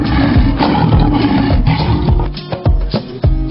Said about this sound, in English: The sound of lion is